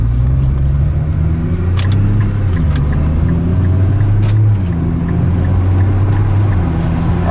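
A Nissan GT-R sports car engine accelerating, a loud, steady drone with a deep rumbling tone that rises and falls slightly, close by and continuous.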